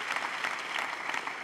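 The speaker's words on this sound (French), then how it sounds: "applaudissez pour vous-même" Applause from a comedy show audience, dense and steady throughout, with no voices standing out.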